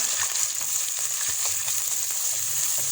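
Ginger garlic paste sizzles in a pan for a chicken kachnar curry, a constant bright frying hiss with faint scraping underneath, alone and fairly loud.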